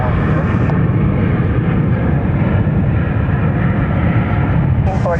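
Airliner engines roar loud and steady as a plane takes off from a runway at San Francisco International Airport, a continuous broadband rumble filling the whole span with faint radio chatter edges.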